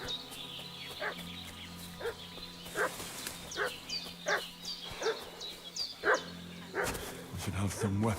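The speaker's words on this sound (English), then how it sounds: "What's that dog making such a fuss about?" Dog barking in the medieval video game Kingdom Come: Deliverance 2, a series of loud, sharp barks roughly once a second over game ambience, with a few whimpers and yips.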